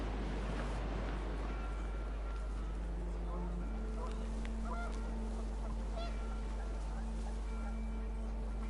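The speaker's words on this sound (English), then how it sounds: "The wind picked up, and panicked geese appeared and quickly went." Geese honking in the video game What Remains of Edith Finch, repeated squawking calls over wind and gusting ambience, with a low steady hum throughout.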